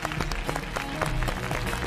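Loud, energetic applause fills a televised summer music gala stage as a special guest, a chief user experience officer for Roewe cars, is welcomed on, continuous dense clapping from a large crowd.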